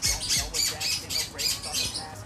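A long-tailed shrike (cendet), a prized songbird kept for singing contests, gives a rapid run of harsh, squawking chirps, close and loud, repeating several times in quick bursts.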